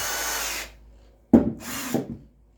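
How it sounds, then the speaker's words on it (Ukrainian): An APRO cordless drill-driver whirs for about half a second, stops, then gives two more short bursts after a sharp start, loud and close with no talking. "Режим сверла, ударний режим молотка."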